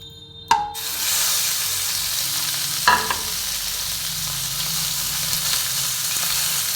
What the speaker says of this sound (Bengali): এবার আমি চিংড়ি মাছটা ভাজবো